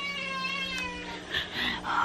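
A hungry cat meows insistently at feeding time, one long drawn-out call followed by a couple of shorter, higher cries, close and clear.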